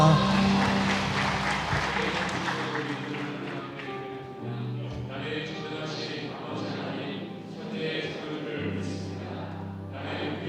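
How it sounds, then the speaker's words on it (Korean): A church congregation claps during a Sunday worship service. The brisk clapping is loudest at the start and then blends under sustained singing and instrumental music with a voice leading. "할렐루야 박수로 주님께 영광을 드리시겠습니다"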